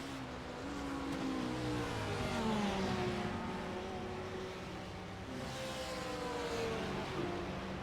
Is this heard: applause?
no